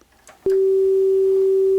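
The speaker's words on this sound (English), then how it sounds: "So test tones are coming." A cassette deck's calibration test tone comes in abruptly after a brief faint rustle, then holds as a loud, steady, unwavering pure tone to the end.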